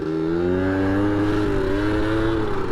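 A tiny moped fitted with an oversized, torquey engine revs close by, its loud exhaust note rising and falling in pitch with no voices.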